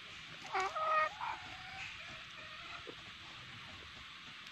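Gamefowl chickens at a game farm cluck in a short burst near the start, then go quiet against faint background noise, the sound moderately close but soft.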